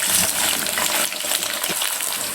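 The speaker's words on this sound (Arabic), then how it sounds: "عندي كوسة هنا متقطعة شرايح بالمنظر دوت زي ما انتوا شايفينها. هنزل بيها كده تاخد تشويحة" Zucchini slices frying in a pan of oil and ghee with mastic, a close, bright, continuous sizzle with crackling spits that eases slightly partway through.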